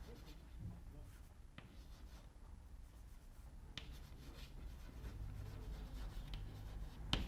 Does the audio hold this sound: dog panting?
no